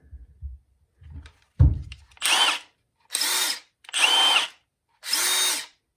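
A Ridgid subcompact 3/8-inch impact wrench fires in four short, loud bursts with brief pauses between them, each a harsh high-pitched whirring rattle, after a few dull knocks.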